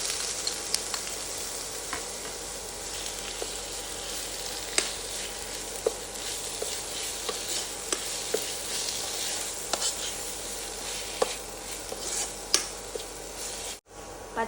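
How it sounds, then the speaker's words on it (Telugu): Grated bottle gourd frying in a pan for a jaggery kheer, a continuous close sizzle with sharp crackles and small pops scattered throughout, no one speaking. "తర్వాత సొరకాయ తురుము వేసుకొని 5 నిమిషాలు ఫ్రై చేసుకోవాలండి"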